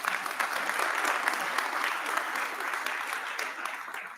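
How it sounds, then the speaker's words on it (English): Sustained applause from a crowd at an honors convocation, welcoming a board chair, a steady dense wash of many hands clapping, fairly close and even in level, tapering slightly at the end. "Let's give her a round of applause."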